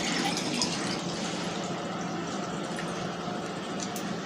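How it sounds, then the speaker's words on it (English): Distilled water, a 250 ml measure, pours steadily into a container for calibrating a digital pH meter, making a continuous close, hissing gush that holds at an even level and tapers only slightly toward the end. "So I'll be pouring it here."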